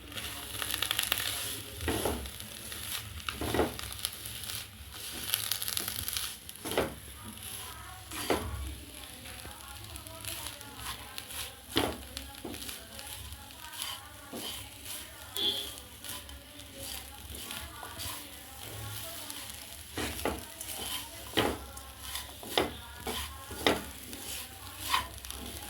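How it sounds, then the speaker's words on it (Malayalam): Ginger, curry leaves, green chili and crushed garlic fry with salt in a pan, giving a soft continuous sizzle broken by repeated scraping stirs and faint clinks, with a little background talk. "നന്നായി മൂക്കോളം വറുത്തെടുക്കാം"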